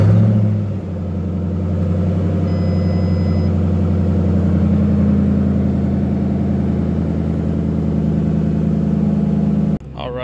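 A 2008 Ford Mustang GT with the 4.6L three-valve V8 is started by push button after an initial click, then settles into a loud, steady, close rumbling idle that continues for about nine seconds before cutting off abruptly.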